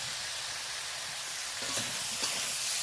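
Fried prawns drop into a pan of drumstick flowers and vegetables being cooked down at home, giving a steady close sizzle with two brief bursts of crackling near the end.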